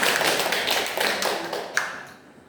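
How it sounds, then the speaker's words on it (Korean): An audience claps for a teacher in a short burst of applause, quick, dense and fairly close, fading out after about two seconds. "우리 선생님에 대해서 한번 박수 한번 보냅시다"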